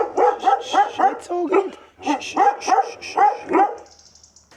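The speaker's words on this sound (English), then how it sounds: "it's full of dogs. Got to watch out for those crazy dogs." Several dogs bark inside a cabin along the Camino de Santiago trail, a close, loud run of rhythmic yappy barks in two bursts with a brief whimper between; a person says a few words in the clip.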